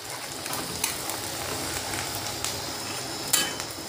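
Chicken frying in hot oil with cumin and onion in a home kitchen pot while making chicken curry, a steady close sizzle with a few sharper crackles and clinks.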